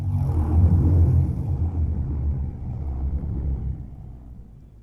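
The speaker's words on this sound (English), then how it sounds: "So the first sound that you're hearing right off the bat is this super cool bass drum sound" Deep, booming bass drum hit from a lightsaber soundfont, a low rumbling thud that swells and slowly decays over several seconds, heard by itself with no voices.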